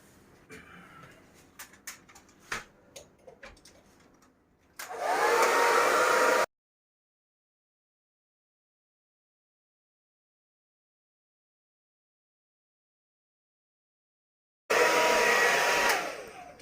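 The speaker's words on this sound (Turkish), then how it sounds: "hani fön makinesi nerede?" A hair dryer switches on loud and close for about a second and a half, cuts off into silence, then blasts again near the end, used while stripping old silicone sealant. Light knocks and handling sounds come first.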